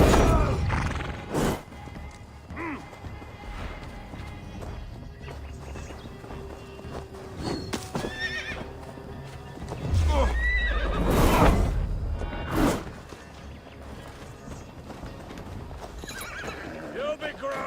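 Horses in Assassin's Creed Valhalla's Siege of Paris neigh and whinny several times amid clip-clopping hooves and bursts of combat clatter, with talk running through.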